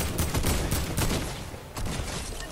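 Rapid bursts of gunfire in the video game Fortnite, several quick shots in close succession at moderate loudness, with no talk over them.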